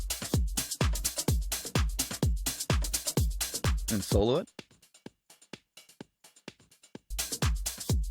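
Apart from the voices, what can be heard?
drum break loop for a tech house remix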